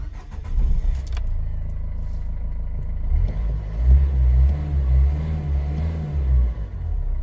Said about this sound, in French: Regardez, vous allez écouter le moteur.